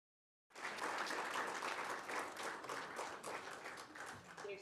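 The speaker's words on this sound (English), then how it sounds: "They're standing and clapping for you" Standing ovation in a room at a day of remembrance event: after a brief silence, a dense burst of applause from many people starts abruptly and continues steadily, sounding full and close though captured at low level.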